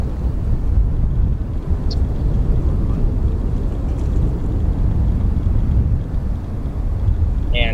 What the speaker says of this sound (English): we are going to give you guys pure audio so you can hear these GEnx engines